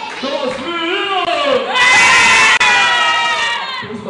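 Crowd of children shouting and cheering loudly for the boys' side during a balloon-popping party game, a dense continuous roar that swells to a peak midway, with an adult voice calling out over it at the start.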